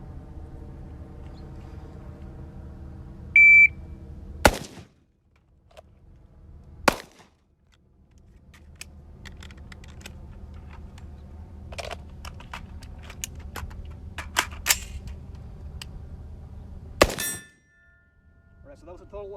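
A shot timer beep starts a timed handgun practice run at an outdoor range, followed by a few sharp, widely spaced gunshots over a steady low background hum.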